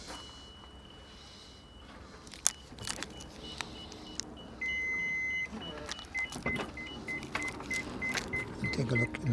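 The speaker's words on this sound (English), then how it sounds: "Close the doors." Doors shut on a 2006 Toyota Alphard MS 3.0 automatic 4WD van, with a few close thumps, a steady powered-door motor whir and a short electronic beep, all fairly quiet.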